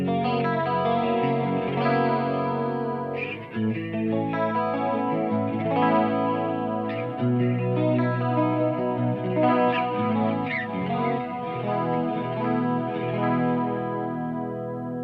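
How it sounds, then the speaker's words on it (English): Clean channel of a 1992 Peavey 6505 guitar amp with chorus and delay pedals, playing a continuous stream of shimmering, echoing chords and notes for the full stretch, loud and without any voice. "I'm going to turn on the Julia chorus and the flashback 2 delay, and let's see what it sounds like"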